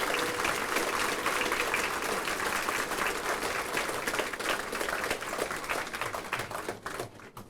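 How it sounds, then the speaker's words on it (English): Crowd at an elementary school's 50th anniversary celebration applauding steadily, a dense, loud wash of clapping that holds for several seconds before thinning and fading out. "Can I get a round of applause for these fine folks for putting on a great event?"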